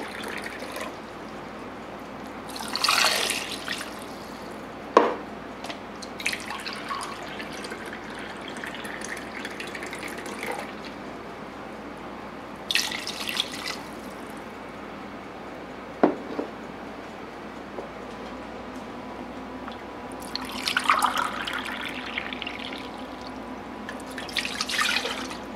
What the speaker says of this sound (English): You're going to want to add 2 cups of cold water.